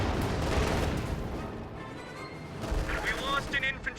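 Artillery fire in a strategy video game, rumbling blasts and crackling impacts that layer together loudly over several seconds, with a voice speaking over them.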